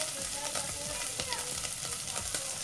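Onion frying in a pan for beef stroganoff, a dense close sizzle with rhythmic scraping strokes throughout, no voices.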